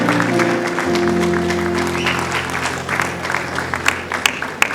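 A church congregation claps in a full round of applause that thins out toward the end into scattered individual claps, with a sustained organ-like tone underneath at first.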